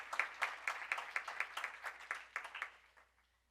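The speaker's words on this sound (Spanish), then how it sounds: "Démosle también un fuerte aplauso a Tatiana Encalada." Brief applause for a panelist at a university emergency-planning expert panel, a few distinct claps in loose rhythm that thin out and fade after about three seconds, moderately close and alone.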